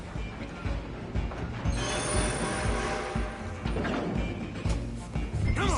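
A train rumbles along in Red Dead Redemption 2, with dense mechanical clatter and squealing metal wheels that stay loud and continuous throughout.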